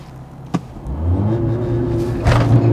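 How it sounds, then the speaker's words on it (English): A Mercedes CLA45S AMG pulling away hard from a standstill, with a sharp click, then a deep engine note rising steadily and swelling louder as it accelerates, close and with no talk. "I have to accelerate one more time from 0 to 100 before we finish."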